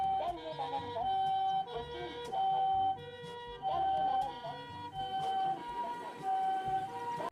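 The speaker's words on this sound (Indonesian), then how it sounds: "Wow, ada mobil ambulan." An ambulance siren wails in a repeating two-tone pattern, steady and rhythmic, moderately close with faint background noise.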